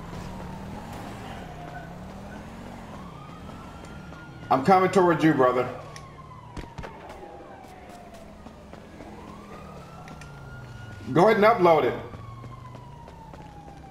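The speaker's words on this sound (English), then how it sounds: "You got the cop cars everywhere" Police car sirens wail and sweep up and down in Grand Theft Auto V online on PS4, steady in the background while players chat over them.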